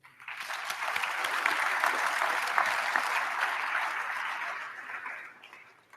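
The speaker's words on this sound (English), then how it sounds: "let us give them a round of applause" A graduation ceremony audience applauds loved ones and sponsors, sustained even clapping from a large crowd that swells quickly and holds steady before tapering off at the end.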